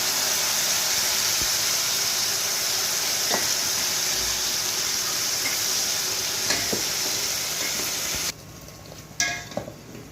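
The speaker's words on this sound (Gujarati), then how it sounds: "એમાં વઘાર કરી દઈએ." Steady hissing sizzle of hot oil tempering with asafoetida poured into kadhi fills the clip with faint clinks, then drops off abruptly near the end, leaving a few scattered taps.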